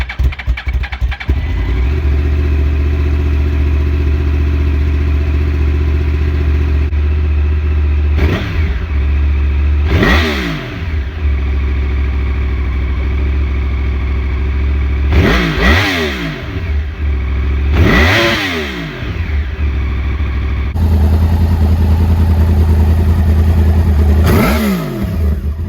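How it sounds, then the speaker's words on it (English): A Yamaha R1 sport motorcycle with its catalytic converter removed idles loudly up close, then gives several sharp throttle revs that climb and fall back, each rising whine returning to a rough, throbbing idle. "We removed the catalytic converter from this bike. I don't know how different it sounds."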